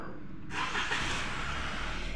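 A 2021 Toyota Corolla with shift shock and stored trouble codes cranks and starts, its engine catching after a quiet half second and settling into a steady, close idle with no talk.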